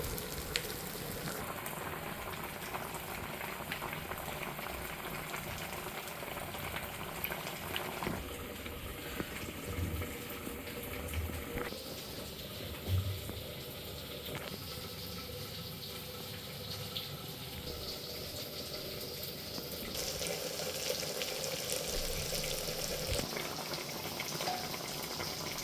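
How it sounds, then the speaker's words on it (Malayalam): Soaked dried jackfruit cooking in water in a pot on a stove, a soft continuous bubbling and simmering hiss that shifts slightly over time, quiet and close, with no talk. "നമ്മൾ ചക്ക എടുത്ത് സാധാ ചക്ക വേവിക്കുന്ന പോലെ തന്നെ അടുപ്പിൽ വെച്ചിട്ടുണ്ട്."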